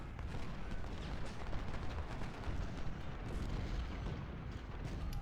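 Artillery barrage in a Civil War strategy game at Malvern Hill, a dense, continuous rumble of booming cannon fire and distant gunfire rolling steadily throughout without letup.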